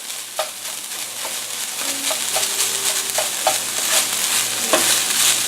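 Ground meat frying in a pan with fresh chopped garlic for spaghetti sauce, a steady sizzle broken by repeated scrapes and knocks of a utensil stirring it, fairly close, with no talk.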